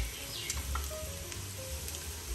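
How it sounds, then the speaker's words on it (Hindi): Two large sliced onions frying lightly in a pan, a soft steady sizzle with small pops and crackles, heard close and fairly quiet, with no voice over it. "दो बड़े साइज के स्लाइस किए हुए प्याज ऐड कर रहे हैं। प्याजों को हमने लाइट सा भुना है"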